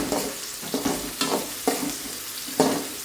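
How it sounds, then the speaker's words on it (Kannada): Green chillies and onion fry in hot oil in a pan, a soft continuous sizzle broken by a few rhythmic stirring scrapes, close and alone. "ಒಂದು ಬಾಣಲಿಗೆ ಎಣ್ಣೆ ಹಾಕ್ಕೊಂಡು ಹಸಿಮೆಣ್ಸಿನ್ಕಾಯಿ ಮತ್ತು ಈರುಳ್ಳಿ ಎರಡೂ ಹಾಕ್ಕೊಂಡಿದ್ದೀನಿ"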